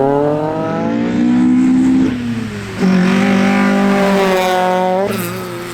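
Mazda MX5 race car of the Class 8 MX5 Challenge at Nutts Corner: a loud, close engine howl that climbs through the gears, drops at each shift and rises again, heard alone with no voices.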